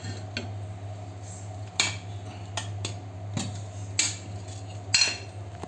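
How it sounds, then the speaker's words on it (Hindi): Metal pots and a pressure cooker clink and clatter on a kitchen stove, several sharp scattered knocks over a low steady hum, close and fairly quiet. "अब हम कुकर रखेंगे ऊपर।"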